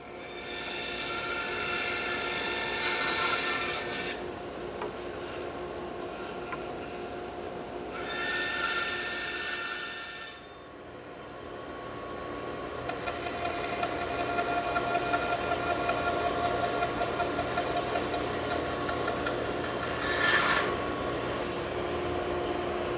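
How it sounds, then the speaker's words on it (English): A bandsaw cuts the wooden sides of a changing table in a woodworking shop, with a continuous loud whine and rasping bursts as the blade feeds through, stopping and restarting across the passage. "then I'll reset the bandsaw using my sample or my test piece to make sure that the fit is just right, and then I'll cut the sides"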